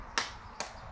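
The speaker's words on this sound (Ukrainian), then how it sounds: "розбиваємо яйце" An egg cracked against a hard edge while a fishing bait is prepared: two sharp, short taps about half a second apart, close and crisp over a quiet background.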